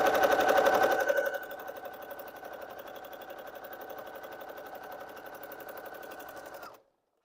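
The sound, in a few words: sewing machine stitching a quilt seam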